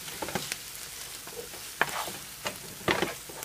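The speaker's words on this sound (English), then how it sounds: "And stir that up." Barbecue sauce being stirred into a mixture in a bowl for pizza bagels, a few soft wet scrapes and squelchy taps heard close and quiet, irregular and spaced out, with no talking.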